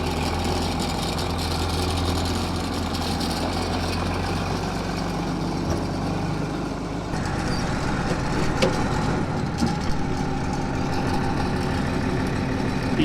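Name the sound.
tractor engine running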